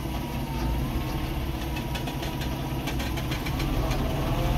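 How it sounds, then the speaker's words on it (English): A big truck idles on a city street: a steady, close, low diesel rumble with a faint knocking pulse running throughout, no voices. "Look at this big ass truck."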